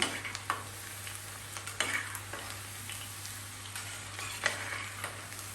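Lotus stem slices frying in hot oil give a steady sizzle, broken by occasional stirring clicks and scrapes from a utensil in the pan. Close by, with no talking.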